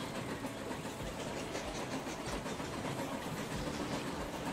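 Train running in the video game Station to Station, a steady low rumbling roll with a faint rhythmic clatter, even and continuous throughout.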